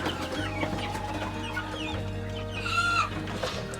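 Chickens cluck and chirp together over a steady low hum, a busy coop chorus with occasional higher peeps from chicks.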